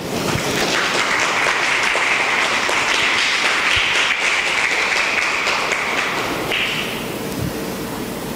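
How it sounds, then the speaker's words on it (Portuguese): A congregation claps together at a church service, a dense, steady burst of applause that holds for about six seconds and then thins out as it fades, with no voices over it. "Eu convido você a aplaudir a palavra de Deus."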